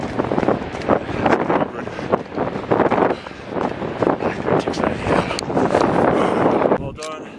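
Strong headwind buffeting a microphone on a beach, a loud gusty rumbling roar that rises and falls, with a voice speaking under it and a sudden drop at the end.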